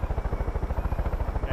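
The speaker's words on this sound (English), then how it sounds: "your helicopter is way faster than mine" Helicopter in the Far Cry 5 video game flying, its rotor thumping in a fast, steady rhythm close up and loud, with no other sound over it.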